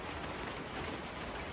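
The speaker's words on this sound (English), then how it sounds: "pressing record can be difficult when there's rain in the background" Steady rain falls outdoors, a dense, even hiss of drops hitting surfaces that continues without pause at moderate volume, with no voices.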